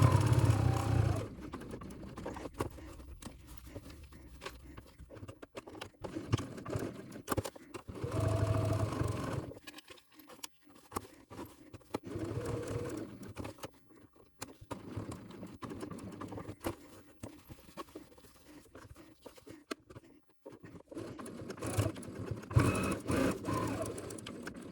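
A sewing machine stitching a lining pocket for a crossbody bag, running in close, rumbling whirring bursts broken by short pauses, alone without talk.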